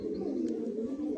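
Madrasi high flying pigeons at a loft sale in Bagnan, Howrah, a continuous close cooing drone held steadily throughout.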